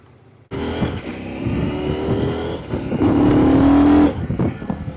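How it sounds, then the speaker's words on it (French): A motorbike engine kicks in abruptly and revs hard past 4000 rpm, pitch climbing to a loud, strained high-rpm whine before dropping off, heard close up. "T'as vu le bruit dès que tu dépasses 4000 tours, ça fait un bois."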